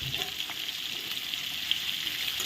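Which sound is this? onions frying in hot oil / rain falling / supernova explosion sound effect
onions frying in hot oil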